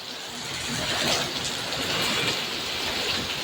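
Heavy rain pours down in a dense, steady hiss, constant and close with no pauses.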